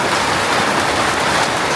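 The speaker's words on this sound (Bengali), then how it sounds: "একদম মুষলধারে বৃষ্টি শুরু হয়ে গেছে" Heavy monsoon rain pours down hard and steadily in a dense, loud, unbroken hiss of drops, with no voices heard.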